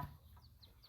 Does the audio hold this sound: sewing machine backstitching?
no